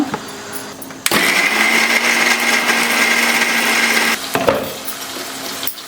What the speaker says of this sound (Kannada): ಇವಾಗ ಮಸಾಲೆ ರುಬ್ಕೊಂಬಿಡೋಣ